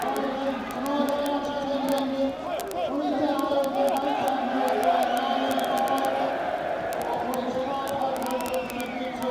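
A crowd of just under 4,000 Crawley Town supporters at an FA Cup second round football match fills the air with a steady roar of chatter and cheering, heard throughout.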